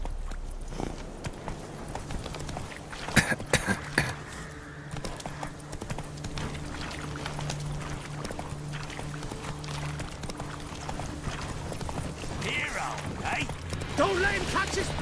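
Hooves of Roach, a horse in The Witcher 3, beat a steady clip-clop gallop in the foreground, overlaid by game music, mechanical clanks and a few sharp hits.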